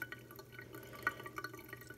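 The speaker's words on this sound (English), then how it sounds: "That is the wastewater draining through the saddle we installed." Wastewater drains through a drilled saddle fitting on a reef aquarium, heard as a faint gurgling trickle with scattered drips and a sharper plink near the end, close and without talk.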